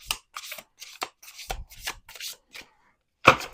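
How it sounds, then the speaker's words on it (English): A tarot deck is shuffled in chunks, giving a run of short, close, crisp riffling bursts with small gaps between them and a louder snap at the end. "It's like they're shuffling through in chunks."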